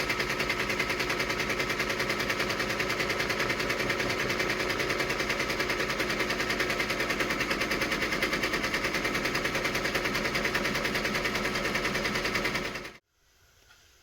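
A Brother PR1055X embroidery machine stitches a design in a fast, steady, rattling hammer of needle strokes, loud and close and unbroken for most of the stretch, then cutting off abruptly near the end.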